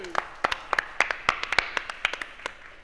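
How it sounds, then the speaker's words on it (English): A conference audience claps for the band in sparse, uneven bursts, with individual hand claps ringing out close and distinct rather than as a full roar of applause. "A clap for the band."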